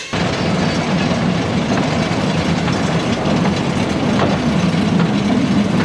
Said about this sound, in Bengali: তো একটু টয় ট্রেনে চড়েই দেখা যাক